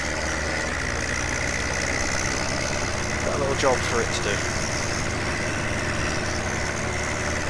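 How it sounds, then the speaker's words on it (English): A rattly old tractor in a farming game idles with a steady, noisy mid-low engine drone throughout, while someone talks over it. "This little old rattly bucket over here. That makes a lot of noise."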